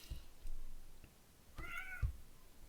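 A cat meows once in a rising, drawn-out call, fairly close and clear, between a few soft low thumps, with no talking.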